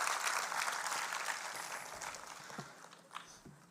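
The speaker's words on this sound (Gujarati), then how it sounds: "એમના માટે આપણે એકવાર ફરીવાર જોરદાર તાળીઓથી એમને આપણે વધાવીએ." An audience applauds at a community dialogue event in Surat, dense clapping that starts steady and then thins out and fades toward the end, fairly quiet and heard alone.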